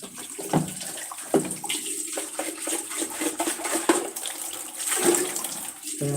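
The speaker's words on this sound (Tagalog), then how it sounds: "Kumukuha lang tayo ng tubig dahil kailangan natin magpainit ng tubig" Tap water splashes and gurgles steadily into a container, being drawn for heating, with scattered knocks and clatter and no speech.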